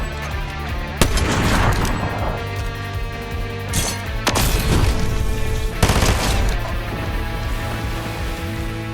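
SMG fire in Fortnite Chapter 5 rattles out in rapid bursts, with sharp loud onsets near the start and middle and dense clatter in between, and no speech.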